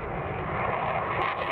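The steady, broadband roar of an F-18 fighter jet's engine in flight fills the clip, loud and constant with no voices.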